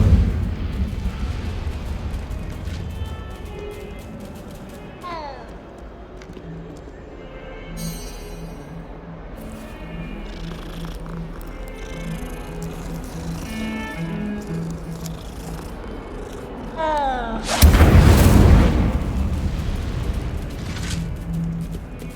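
The Incendio fire spell in Hogwarts Legacy: game ambience with scattered magical swishes and chimes, then a sudden loud, roaring whoosh of fire late in the sequence that lingers.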